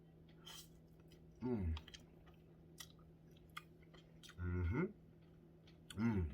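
Close, quiet chewing and biting of a sushi platter, with a few distinct mouth bursts separated by soft clicks and smacks.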